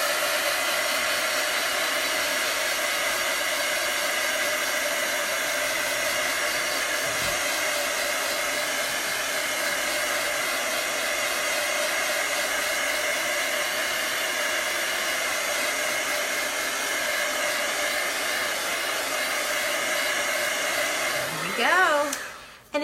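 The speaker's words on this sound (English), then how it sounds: "let's hit it with some heat because it's still a little wet" A heat tool runs steadily at close range for about twenty seconds, drying wet chalk paste on a marbling craft project, with a steady whine that cuts off at the end.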